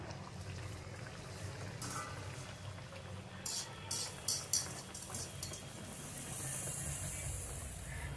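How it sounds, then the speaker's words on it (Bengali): Puris dropped into hot oil give a steady bubbling sizzle with a brief burst of sharper crackles midway, swelling to a louder continuous hiss toward the end; no one speaks. "আমার তেলটা গরম হয়ে গেছে, দিয়ে দেবো পুরিটা তেলের মধ্যে।"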